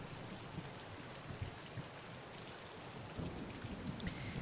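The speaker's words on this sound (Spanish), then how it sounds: "Hay mucho trueno aquí fuera." Thunderstorm outdoors, with steady heavy rain hissing throughout and low thunder rumbling beneath it, the rumble swelling more strongly in the last second or so.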